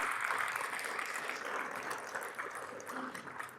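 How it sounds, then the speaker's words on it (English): An audience claps together at a celebratory gathering, a soft, even wash of applause that holds for a few seconds and fades slightly toward the end. "let's give that a round of applause"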